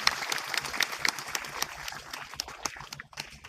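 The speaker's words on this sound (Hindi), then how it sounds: "तो आप बधाई के पात्र में चाहूंगा सभी लोग एक बार ताली बजाकर जरूर स्वागत।" An audience claps at the inauguration of a Humanity First ambulance service, a dense burst of applause with sharp individual claps that starts full and thins toward the end, and faint talk briefly underneath.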